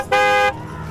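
A voice mimics a car horn with one sustained, nasal honk lasting under half a second, loud and close, then falling back to quiet room noise.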